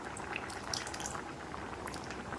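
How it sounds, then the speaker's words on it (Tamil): Curd being poured into aviyal and stirred in a pot, a faint soft bubbling and liquid sloshing with light clinks, with no talk. "இப்போ நான் வந்து இந்த இந்த ஸ்டேஜில் வந்து தயிர் கலக்கிறேன்"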